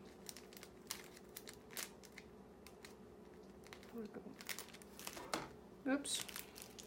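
Paper crinkles and rustles in irregular bursts while a cookie box is wrapped, with a sharper crackle near the end and a person talking faintly in between.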